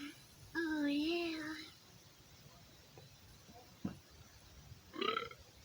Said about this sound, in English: cover your mouth when you're burping